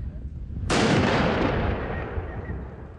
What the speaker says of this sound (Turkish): Şüpheli paket fünye ile patlatıldı.